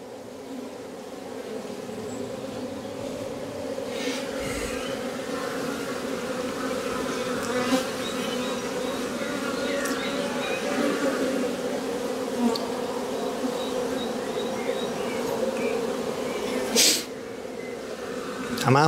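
A honeybee colony at an open hive hums in a steady, dense drone that runs throughout, with a few brief clicks and knocks on top and no talking.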